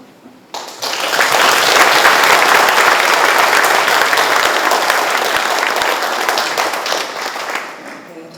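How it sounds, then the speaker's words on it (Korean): Loud, sustained applause from a large crowd fills a provincial vice-governor's retirement ceremony in Gyeongbuk. It swells quickly and holds steady for several seconds before slowly tapering off. "부지사님께 다시 한번 큰 박수 부탁드립니다"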